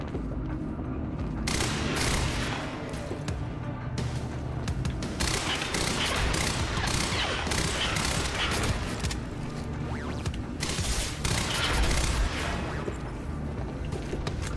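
Sustained heavy gunfire and explosions in the shooter game Quantum Break, a dense, loud barrage of rapid shots and booms running nearly continuously with no talking.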